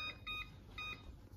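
A kitchen timer set for five minutes while acorn flour is being made beeps faintly in short, high-pitched bursts, two quick groups of rapid beeps against a quiet room background.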